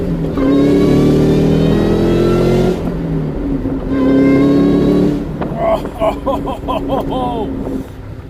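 A 2003 Ford Mustang Cobra Terminator pulls hard from a rolling start. The engine roars loudly through a rising rev, drops briefly with a gear change and climbs again, then the sound breaks up into wind buffeting and revving.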